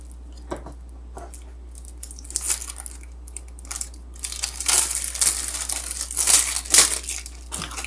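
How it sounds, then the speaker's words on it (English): Crinkly plastic wrappers of trading card packs being cut open with scissors and handled close up, scattered crackles and rustles that grow busier and louder toward the end. "If I could get these open, good old handy scissors."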